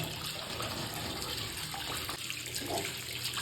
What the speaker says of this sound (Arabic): دلوقتي بقى اروح اغسل الطماطم مع البصل مع الفلفل وارجع لكم تاني